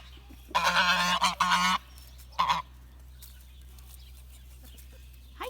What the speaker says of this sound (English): That's our goose. His name is Tootie.